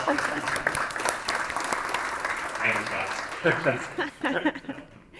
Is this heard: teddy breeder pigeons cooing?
no